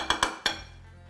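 Cast iron pan set down on a stovetop, three quick sharp metallic clanks in close succession, then a faint low hum, no talk.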